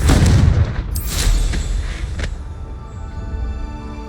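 Confringo blasting-spell explosions in the video game Hogwarts Legacy land as a loud booming blast, followed by a few sharp cracks and a long, fading rumble.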